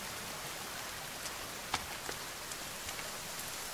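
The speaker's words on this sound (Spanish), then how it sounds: "Sí, sí, sigue lloviendo" Rain falling in the survival video game The Forest, a steady soft hiss of downpour with a few scattered sharper drips, continuous and fairly quiet with no voices.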